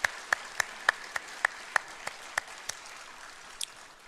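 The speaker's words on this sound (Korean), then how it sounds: "박수로 환영합니다" A church congregation at a Sunday worship service claps to welcome newcomers, heard as faint, sparse, evenly spaced individual claps in a quiet, reverberant room.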